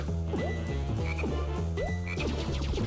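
Frogs croak in the Fairly OddParents: Breakin' Da Rules Game Boy Advance game: rapid, chirpy electronic croaks repeat in a bouncy rhythm over looping game music.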